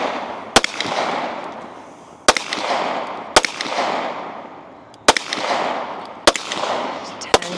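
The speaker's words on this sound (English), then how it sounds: "Just 10 shots here" Rifle shots ring out on a team stage at a shooting competition, sharp loud cracks spaced a second or two apart, each trailing off into a broad rolling echo across the range.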